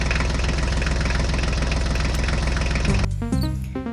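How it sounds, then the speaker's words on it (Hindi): New Holland tractor engine running with a steady, loud, low idling rumble and knocking pulse that shifts to a different revving tone near the end, no voices. "चलो बच्चों, हम जल्दी जल्दी से इस बिल से हमारे न्यू हॉलैंड ट्रैक्टर को बाहर निकाल लेते हैं।"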